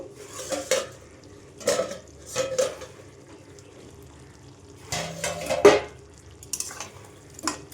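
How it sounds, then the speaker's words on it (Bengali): A lid comes off a pot of chicken stomach (gizzard) kosha cooking in oil, giving a few close metallic clanks and scrapes amid quiet gaps, followed by light stirring and soft sizzling, with no talking. "এবার ঢাকাটা খুলে দেখবো"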